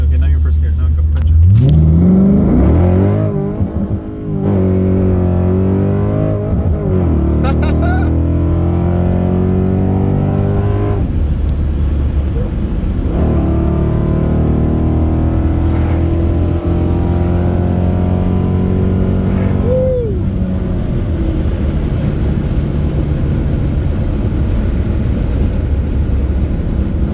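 A car accelerates slowly in first gear, the engine note rising and shifting in pitch close by, with people talking over it for much of the time.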